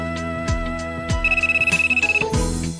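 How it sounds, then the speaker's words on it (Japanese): A mobile phone rings in a visual novel, a loud electronic ringtone with repeating tonal bursts and a fast trilling passage in the middle, heard alone without talk. "あ、あかりちゃんの携帯がな"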